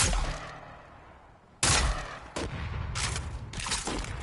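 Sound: proximity grenade exploding in Fortnite video game

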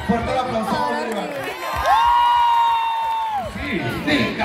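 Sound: crowd applauding and cheering at a comedy show

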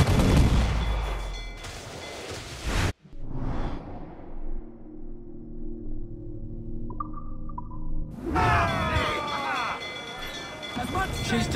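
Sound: ship cannon fire in video game Assassin's Creed IV: Black Flag

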